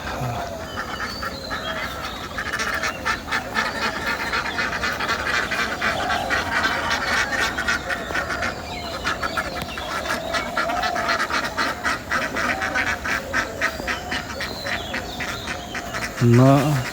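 Ducks released toward a pond in a Bangladeshi village: a dense chorus of repeated quacks, close and steady throughout, with a person talking over part of it.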